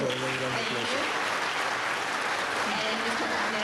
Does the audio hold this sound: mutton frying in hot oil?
no